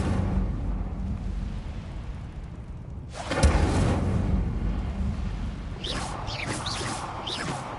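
An Incendio fire spell is cast in Hogwarts Legacy, a sudden whooshing eruption of flame that roars and then settles into a crackling rumble, with brief chirping effects toward the end.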